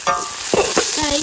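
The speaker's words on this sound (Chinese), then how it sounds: "肉炒熟放入姜蒜干辣椒" Meat stir-frying in a wok with ginger, garlic and dried chili, a loud close sizzle with quick scraping stirs of the spatula across the pan.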